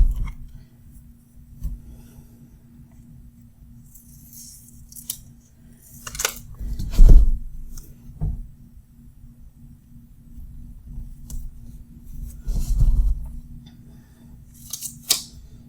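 Scissors trimming the white edge off a planner sticker at a desk, a few close snips and paper rustles with quiet handling sounds between them, no talking.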